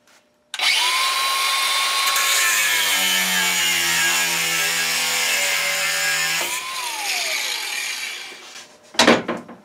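A DEWALT DCG412B 20V cordless angle grinder spins up and cuts through material for several seconds, a loud, steady high whine with dropping pitch under load, then winds down, alone without speech.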